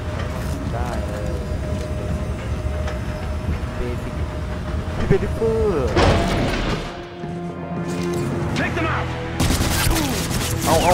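Dense rattling gunfire in the sci-fi horror game Dead Space 3, sustained and loud, with a brief lull midway before the shooting resumes; voices speak over the action.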